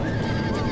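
A horse in Red Dead Redemption lets out a whinny, a short wavering neigh heard clearly and close, with faint hoof clip-clop underneath.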